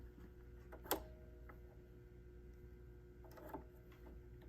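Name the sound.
BERNINA sewing machine needle threader being used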